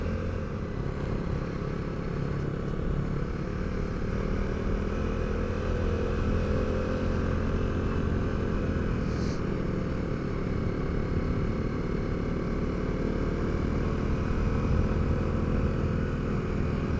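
Motorcycle ridden on the road toward Cradle Mountain in Tasmania, its engine giving a constant low droning hum mixed with steady wind rush, even and unbroken throughout with no talking.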